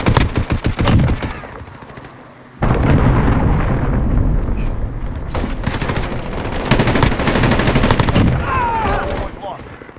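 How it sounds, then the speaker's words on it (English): A Call of Duty Modern Warfare match in hardpoint mode: rapid bursts of automatic gunfire alternate with a long rumbling cruise missile explosion, loud and close, with more scattered shots and crackling after. "cruise missile."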